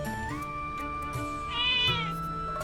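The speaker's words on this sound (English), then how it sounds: "It's a lot of cats y'all have." Cats meowing in the video game The Legend of Zelda: Echoes of Wisdom, set in the Gerudo Desert, with a couple of clear, close meows over soft game music and no talking.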